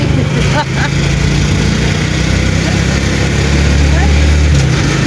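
A motor vehicle engine revs with a close, steady low drone as it pulls away outdoors, mixed with background noise and faint voices.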